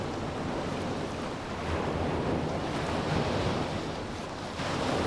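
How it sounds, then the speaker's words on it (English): Sea waves break on the shore in a continuous roaring wash, with wind buffeting across the microphone. The surf swells and recedes at fairly close range without any voices. "And the sea is endless."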